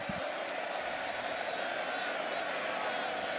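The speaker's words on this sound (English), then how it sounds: "Listen to the crowd here in Montreal." A football stadium crowd in Montreal during a CFL game between the Toronto Argonauts and Montreal Alouettes roars as a broad, continuous wall of noise from start to finish.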